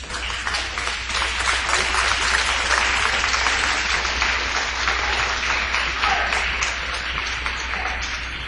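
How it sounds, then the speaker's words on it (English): Graduates and audience at a Sault College graduation ceremony applaud together, a dense, sustained wash of many hands clapping that stays loud and steady throughout, fading slightly near the end. "turn and face your family, your parents, your partners, friends, and applaud them for the support that they have given you over the years"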